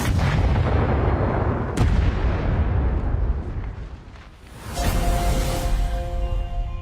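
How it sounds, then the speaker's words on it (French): A heavy artillery cannon at a Nazi coastal fortress fires with a deep, rumbling boom and a sharp crack. The blast rolls off into a long echo before a second deep rumble follows. "Le chariot roule vers le canon. Et les voilà prêts à tirer."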